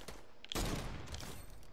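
A single sharp sniper shot in a video game cracks out loudly, followed by a brief rolling echo that fades over the next second.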